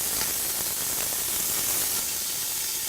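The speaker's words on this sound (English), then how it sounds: "this amazing sizzling that I'm going to have to actually yell over" Beef searing for goulash in a hot pan gives a loud, steady, dense sizzle and hiss that runs without pause for the whole stretch, with no voice over it.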